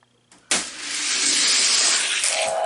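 Hot Wheels toy cars, a Corvette and a Ferrari F50, racing downhill on a track: a sudden loud rushing whir of plastic wheels starts after a brief click and rolls on steadily, close and without talking.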